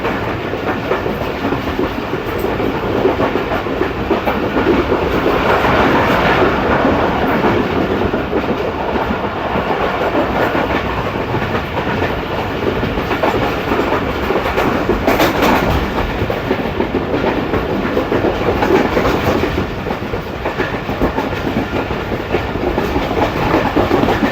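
A passenger train in Pakistan running on rails, with a loud, steady rumble and clickety-clack filling the whole stretch, heard from on board without pause.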